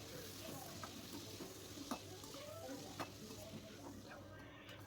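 Potatoes with salt and turmeric frying in a kadai over medium-high flame, with a quiet, continuous sizzle and a few light spatula scrapes and taps against the pan; no speech.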